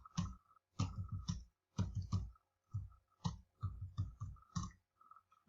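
Several sharp mouse clicks in quick succession, some in tight doubles and triples, with short pauses between bursts, close and fairly quiet, made while adding contributions in ThinkTank software.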